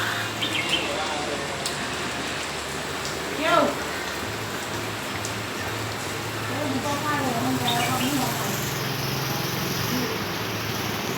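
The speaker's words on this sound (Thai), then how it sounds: "วันนี้ฝนตกหนักมากครับน้ำท่วม" Heavy rain falls as a steady, dense hiss of drops on surfaces, continuous and fairly faint, with a brief louder knock partway through.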